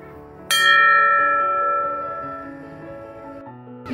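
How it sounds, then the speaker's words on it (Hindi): A single clear strike of a temple bell in Nepal, its bright metallic ring sustaining and slowly fading, with another strike starting at the end. "मुझे वो टेंपल का घंटी का आवाज़ सुनाई दे रहा है"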